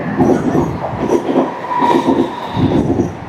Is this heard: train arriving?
yes